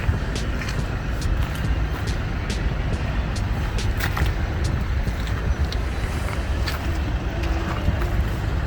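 A 2021 Mercedes-Benz GLC43 AMG runs and drives with a steady low engine and road rumble, heard close. Wind-like noise and scattered clicks sit on top of the drone, and there is no talking.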